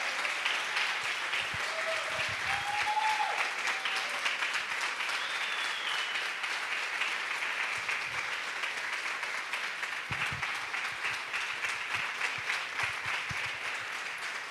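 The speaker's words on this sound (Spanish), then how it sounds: "Dale una ofrenda de palmas al Señor." A church congregation claps during a Sunday service, sustained dense applause filling the room with a few faint voices and shouts mixed in.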